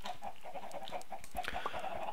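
Minecraft chickens cluck in a rapid, steady stream of short clucks, loud and close over faint background game noise, with no talking.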